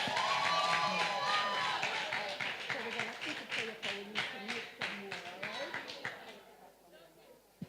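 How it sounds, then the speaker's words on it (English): An audience at an early childhood graduation ceremony claps and cheers steadily, the applause thinning out and fading toward the end, with a voice talking over the start. "Give them another round of applause."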